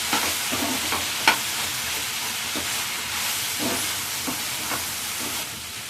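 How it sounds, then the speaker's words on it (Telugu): Tomatoes and about ten cashews frying together in a pan for butter chicken, a dense continuous sizzle and steamy hiss with occasional stirring clicks, close up and without talk. "ఈ టమాటా వేగేటప్పుడు మనం దీంట్లో ఒక 10 కాజు వేసుకుంటున్నాం. ఇప్పుడు మనం టమాటాతో పాటు ఫ్రై చేసుకోవాలి."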